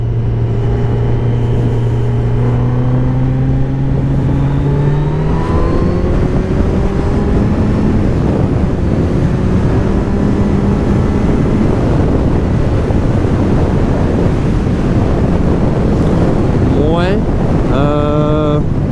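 Kawasaki Z900 motorcycle, an A2-restricted version, accelerating hard through the gears, engine pitch climbing repeatedly over loud wind buffeting on the rider's microphone, with a final sharp rev rise near the end.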